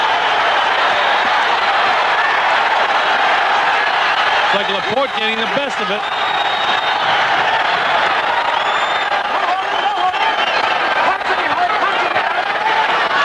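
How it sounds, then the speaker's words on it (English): A boxing arena crowd at a WBC championship bout between Julio Cesar Chavez and Juan Laporte roars and cheers steadily throughout, a dense sustained wall of noise with a ringside commentator talking over it. "Crowd coming to life as you see the action here."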